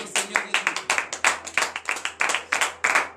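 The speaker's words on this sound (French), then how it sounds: "Donne de vive acclamation à notre Seigneur Jésus." A congregation at a morning prayer service in Benin claps in a steady, fast rhythm, sharp repeated claps close and moderately loud with no talking over them.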